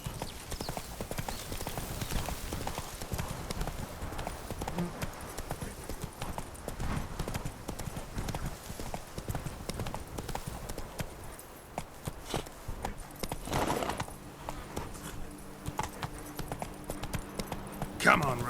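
Roach the horse clip-clops steadily along in The Witcher 3, hooves beating a close rhythmic patter while a voice talks over them, with a brief whinny-like tone near the end.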